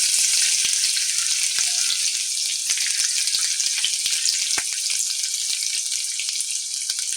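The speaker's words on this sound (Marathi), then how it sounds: "तेल चांगलं गरम झालं की त्यामध्ये मोहरी, जिरं, बारीक चिरलेला कांदा" Mustard seeds, cumin and finely chopped onion hitting hot oil give a loud, continuous hissing sizzle close by, with small crackles and pops throughout and no talking.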